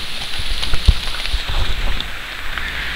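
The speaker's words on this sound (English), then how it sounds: "Well, it's still raining." Steady rain hissing close by in the North Georgia wilderness, with scattered heavier drops tapping a nearby surface and no voices.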